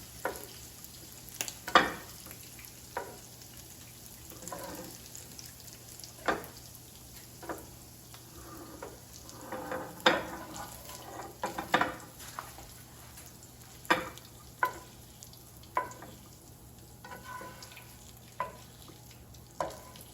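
Ground sausage sizzling in a frying pan as a utensil pushes it around, with a soft steady hiss broken by repeated sharp scraping and tapping strokes against the pan.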